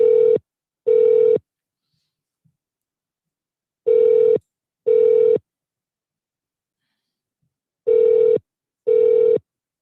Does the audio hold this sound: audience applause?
no